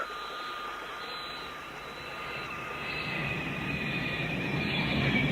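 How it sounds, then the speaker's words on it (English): An airplane flying over an airfield in an audiobook sound effect, a steady droning engine roar that grows slightly louder and nearer across the few seconds, with no talk. "Another plane!"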